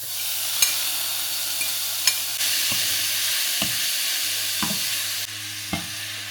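Minced pork frying in a pan, a steady close sizzle broken by several scraping stirs and knocks of the utensil, no voices.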